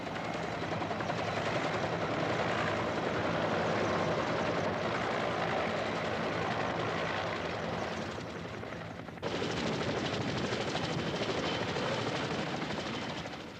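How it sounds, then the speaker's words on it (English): Helicopters land at the U.S. embassy during the final evacuation of Saigon in the Vietnam War, a continuous loud rotor thrum that briefly dips and then resumes with heavier clatter. "the helicopters can now only land on the embassy roof or in its secluded compound"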